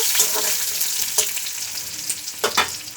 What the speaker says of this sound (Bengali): দিয়ে এটাকে বেশ ভালো করে ভাজা ভাজা করবো।